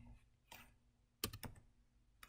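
A few sparse, soft keystrokes on a computer keyboard while working through a system of linear equations, faint taps with a quick cluster in the middle, no voices.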